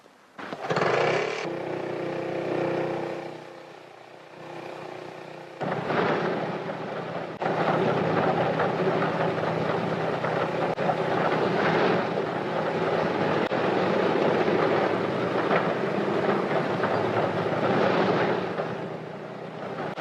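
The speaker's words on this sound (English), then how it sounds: "Tiny auxiliary motor starts each main engine in turn." A Handley Page airliner's main engines start in turn from a small auxiliary motor, first a short whine and then piston engines catching and settling into a loud, steady, throbbing drone.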